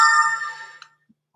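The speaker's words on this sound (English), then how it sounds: "My phone making it ever so much of a racket." A mobile phone sounds a single bright chime that rings out and fades within about a second, followed by a couple of faint soft taps.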